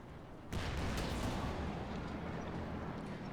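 A Panzer IV J with armored side skirts fires on a Sherman in a World War II tank game: a sudden loud blast opens into a long rumbling roar that slowly tails off, with no voices.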